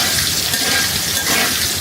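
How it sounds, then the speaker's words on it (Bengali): Potatoes frying in oil in a pan, a brief, fairly loud, even sizzle with a faint bubbling texture and no voices. "আলুগুলোকে আমি লাল লাল করে ভেজে উঠিয়ে রাখবো।"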